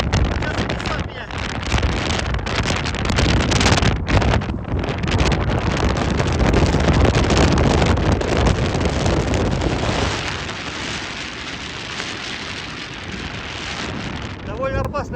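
Strong wind buffets the microphone on a mountain ridge in Kazakhstan with a loud, continuous roar. It eases somewhat toward the end, and no voice comes through clearly.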